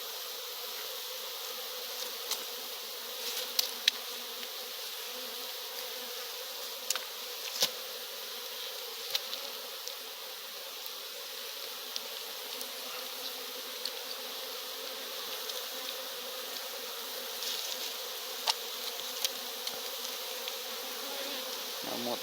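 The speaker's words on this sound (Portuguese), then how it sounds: "Um monte de abelha em cima, né? Que se afasta um pouquinho." European Italian honey bees swarm and buzz around an opened hive during honey harvesting, a dense continuous drone with occasional louder passes near the microphone, no voices.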